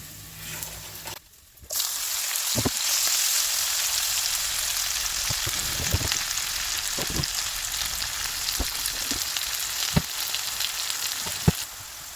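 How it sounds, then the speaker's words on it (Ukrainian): Pork fat and onions sizzle steadily in a pan, a continuous crackling hiss with occasional louder pops and a brief stir near the start. "поки смажиться сало з цибулею"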